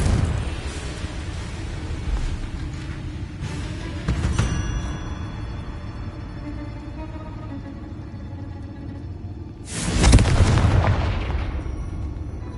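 Magical spell explosions from Bombarda and Confringo in the Hogwarts Legacy video game: a burst of booms and crackling blasts early on, a steadier rumble, then one loud, sharp detonation near the end that rings out and decays.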